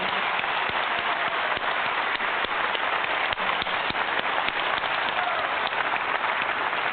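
An audience at a presentation gives a long round of applause. The clapping is dense and steady like rain and stays loud and even throughout, with no voices over it.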